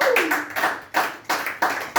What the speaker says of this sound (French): Acclamez pour Dieu.